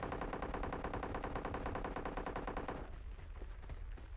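Rapid automatic gunfire in PUBG Mobile rattles in a dense, steady burst for most of the stretch, then thins into scattered, more distant shots near the end.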